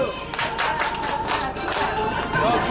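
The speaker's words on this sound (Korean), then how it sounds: "박수 또 주세요." An audience on a Sea of Galilee cruise boat claps in a dense, steady burst of applause, with some crowd murmur underneath.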